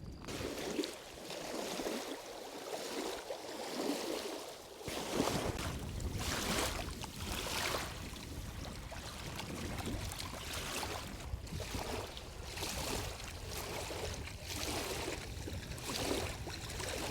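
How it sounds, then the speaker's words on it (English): A stream flows along a hiking trail as winter nears, a steady broadband rush of moving water with gusts of wind, quieter at first and fuller after the first few seconds, no speech. "coming out here just to hear and listen to the water"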